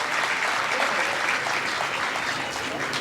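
A crowd at a talk marking Ajit Pawar's birthday breaks into steady applause, a continuous, moderately loud patter of many hands with no break.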